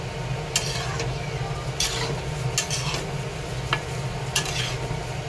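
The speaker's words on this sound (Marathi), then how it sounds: "आता याला चांगलं फिरवून घेते." Khatta meetha pickle being stirred in a pan, a spoon scraping and clinking against the metal in irregular strokes over a soft continuous sizzle, close and moderately loud.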